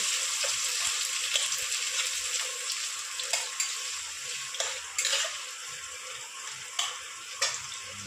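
Chopped onion frying in a pan with dried chillies tempered in oil, a steady close sizzle with occasional sharp clicks of stirring, no talking.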